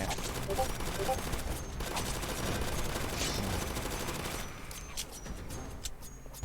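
Rapid bursts of gunfire in the video game Zombie Uprising crackle in a dense stream, then thin out toward the end, with a voice faintly mixed in.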